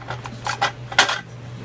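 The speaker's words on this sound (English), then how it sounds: "place the blade back into the machine" A slicer blade is set back into a meat slicing machine, giving a few short metallic clanks and clicks over a low steady hum.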